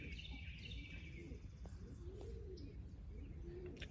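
Young racing pigeons coo in soft, repeated rolling calls in a backyard loft area after a storm, with a few higher chirps mixed in over a steady low background rumble.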